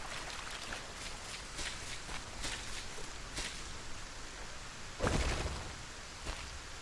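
Steady rain in the video game Solarpunk makes a continuous soft hiss with scattered patters and one louder splash-like burst near the end, with no talking.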